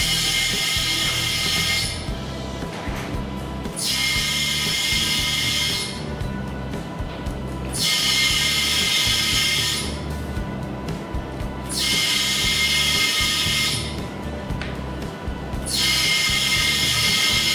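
An ultrasonic homogenizer runs in pulsed cycles, a loud steady mechanical whine and buzz that cuts out for brief pauses about every two seconds, then resumes, with no talking.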